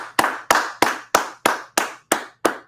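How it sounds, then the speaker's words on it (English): Eight single, sharp handclaps land in an even, deliberate rhythm roughly a third of a second apart, close and crisp, each one decaying quickly. "Let's clap it up"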